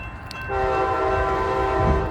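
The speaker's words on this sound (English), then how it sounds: "I ain't gonna sit here and watch this damn train go by." An Amtrak train sounds its horn as it passes, a loud sustained multi-tone blast entering after a half second over rumbling rail noise and continuing steadily to the end.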